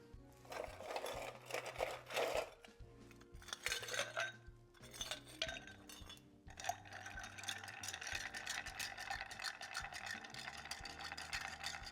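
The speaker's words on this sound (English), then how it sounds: "So then we're going to stir this up with some ice." A cocktail is stirred with ice, giving a quick run of bright clinks and rattles of ice against a glass and spoon, faint and close, with pauses between bursts of stirring.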